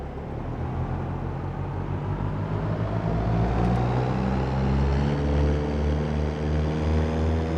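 A Cessna 172 piston engine in the X-Plane 12 simulator drones loud and steady as the throttle comes up, a rumbling propeller hum with slowly rising tones and no talking.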